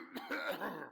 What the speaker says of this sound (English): Still with the coughing.